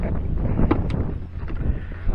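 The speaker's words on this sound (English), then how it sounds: "The wind is quite gusty." Gusty wind buffets the microphone aboard a trimaran sailing on the Black River, a steady low rumble with soft swells of gusts throughout the short stretch.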